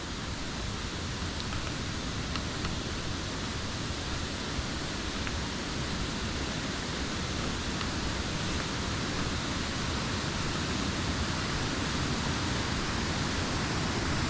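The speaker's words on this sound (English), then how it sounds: "And here's the start of the waterfall." Water rushing steadily over a stone step at the head of a waterfall, worn stone pillars close by, a dense unbroken roar heard up close, loud and even throughout with no voices.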